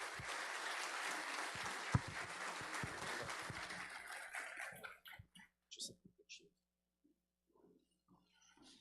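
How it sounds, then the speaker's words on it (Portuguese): An audience applauds to welcome a guest lecturer, Professor Green, at the opening session of an academic sports symposium. The dense clapping fills the first five seconds, then breaks into a few scattered claps and fades out into near silence. "pedir a todos que a recebam com uma salva de palmas"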